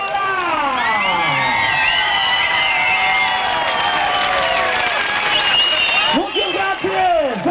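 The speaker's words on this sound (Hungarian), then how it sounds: "Tapsolok!" A stage audience at a Hungarian comedy show applauds and cheers loudly and steadily throughout, a dense crowd roar, with a voice calling out near the end.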